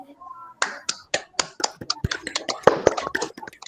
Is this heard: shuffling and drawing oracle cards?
no